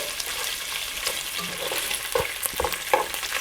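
Kielbasa and potatoes brown in a pot with a soft, steady sizzle, joined by several clinks and scrapes of stirring toward the end.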